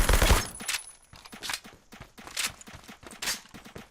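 Gunfire in the Roblox shooter Phantom Forces: fast bursts of automatic weapon shots, with a loud opening volley followed by several rapid bursts at a steady rhythm.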